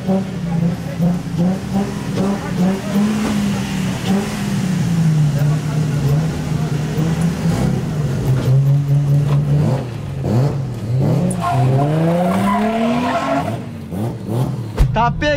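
A car drifting around a track, its engine holding a loud, wavering drone that rises and falls, with sweeping pitch swings near the end that suggest hard revving. People talk over it throughout.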